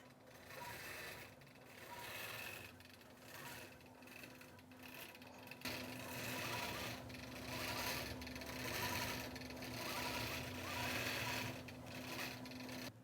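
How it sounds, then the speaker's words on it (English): A sewing machine quilting a butterfly appliqué runs in steady bursts of rapid, even stitching hum, pausing briefly and starting again, fairly close and fairly quiet. "And I'll just go over there and quilt."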